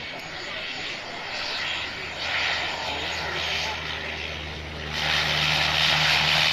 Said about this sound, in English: We'll start to turn the volume up of the aircraft in just a moment as they start to approach